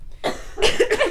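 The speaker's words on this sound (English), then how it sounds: "I've had a really bad cough" Close, loud coughing from a young woman with a bad cough, a short burst followed by a cluster of rough, hacking coughs in quick succession.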